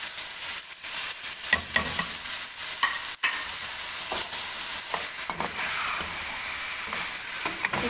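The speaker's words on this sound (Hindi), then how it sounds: "इसे अच्छे से मिक्स करेंगे और मज़ीद 2 मिनट भूनेंगे" Chicken and macaroni with spices stirred and frying in a pan, a steady close sizzle broken by irregular scraping stirs throughout.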